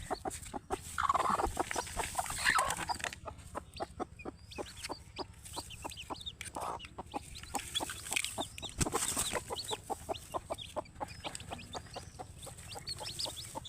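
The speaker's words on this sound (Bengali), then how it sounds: "দেশি মুরগির বাচ্চা," Native hens cluck in rapid, rhythmic bursts close by, joined by the thin peeping of newly hatched chicks, keeping up a busy, continuous chatter throughout.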